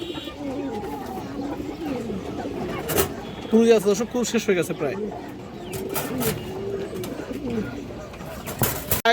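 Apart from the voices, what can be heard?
pigeons cooing and flapping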